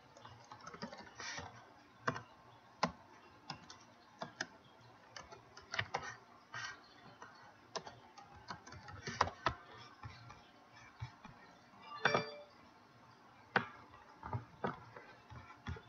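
Faint, uneven typing on a computer keyboard, with scattered clicks and a few sharper key strikes spread over a quiet room tone.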